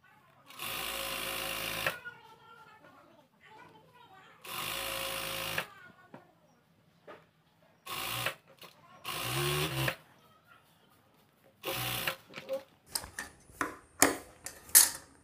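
An electric sewing machine stitches elastic into the waistband of palazzo pants in loud bursts of fast mechanical rattling, several runs of one to two seconds separated by pauses, with someone talking between them.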